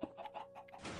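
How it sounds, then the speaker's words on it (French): Laying hens in Minecraft clucking in a quick series of short, faint clucks over a quiet background. "Là, c'est les poules pondeuses."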